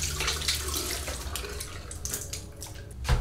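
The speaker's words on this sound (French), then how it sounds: "je vais rincer mon visage et Bien évidemment, je vais toujours rincer avec de l'eau tiède" Lukewarm tap water runs into a sink while a face is rinsed, a continuous splashing flow with shifting splashes and a brief louder slosh near the end, with no voices.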